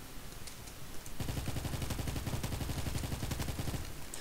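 An overpowered gun in a Roblox game fires a rapid, evenly spaced stream of loud shots after a brief quieter lead-in, with no talk over it.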